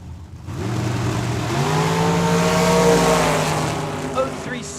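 Dragsters race down a drag strip at Tucson Dragway, their engines rising in a loud, sustained roar with climbing harmonic whine for several seconds before fading, with a voice talking over the noise.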